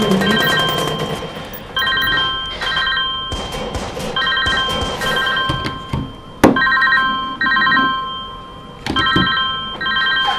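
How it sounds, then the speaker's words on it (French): A mobile phone rings repeatedly in bursts, a bright electronic ringtone sounding loud and close over a busy video game soundtrack, with no talk over it. "j'ai mon téléphone qui sonne"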